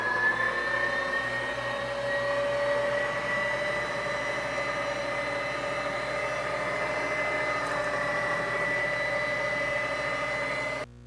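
Electric meat grinder running through jalapeno cheddar sausage mix, a steady motor hum with sustained whining tones, constant and close, cutting off abruptly at the end.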